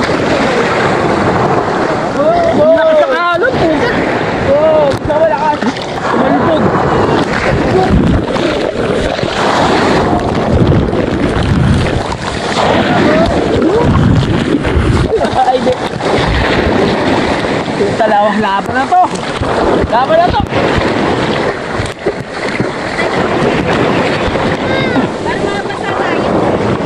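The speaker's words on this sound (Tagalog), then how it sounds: "Lakas ng alon!" Strong ocean waves buffet a small boat at sea off Tangalan, with loud rushing water, gusting wind hitting the microphone and excited voices shouting over the din throughout.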